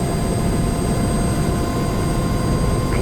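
Turbine engine of a UH-60 Black Hawk helicopter spooling up during its start sequence in the DCS World flight simulator, a steady loud roar with a constant high whine, no talk.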